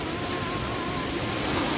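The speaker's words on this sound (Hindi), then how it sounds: "कंदराओं से होती हुई मंदाकिनी नदी का कल कल करता हुआ स्वर, और ये सुंदर सुंदर पानी के झरने" The Mandakini river rushing through rocky gorges with waterfalls along the Gaurikund to Kedarnath trek, a steady, loud, dense roar of flowing water filling the whole moment.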